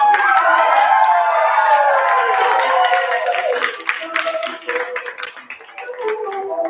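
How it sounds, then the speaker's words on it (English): Crowd at a noontime show with a guest artist cheering and clapping, loud mixed voices and applause that gradually thin into scattered claps and shouts. "And the crowd goes wild."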